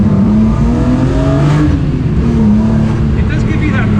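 Loud engine note of a Jagermeister-liveried BMW E36 M3 road and race car accelerating, heard from inside the car, with the pitch rising steadily. Voices talk over the engine.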